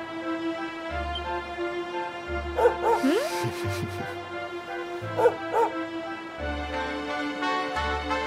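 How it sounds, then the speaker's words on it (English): A dog in the video game Dragon Quest XI gives several short yips and whimpering barks in bursts over a soft game music bed with low sustained tones, no voices. "That reminds me of the dog from Fable"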